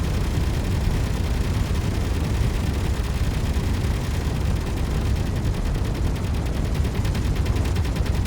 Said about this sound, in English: What on earth could we be shooting at?